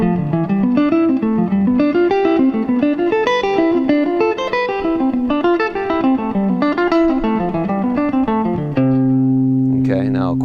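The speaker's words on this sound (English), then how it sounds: "Diatonic arp sequence." Distorted electric guitar runs a fast diatonic arpeggio sequence in rising and falling note patterns, loud and continuous, ending on a sustained held chord.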